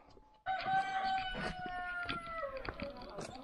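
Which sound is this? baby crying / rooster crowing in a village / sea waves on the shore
rooster crowing in a village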